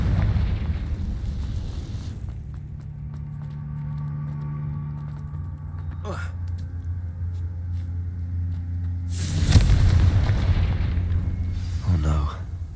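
Confringo spell blasts in Hogwarts Legacy: loud booming explosions bursting out over a low droning game ambience, with sharp impacts spaced apart and two big bursts near the end.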